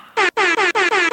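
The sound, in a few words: air horn sound effect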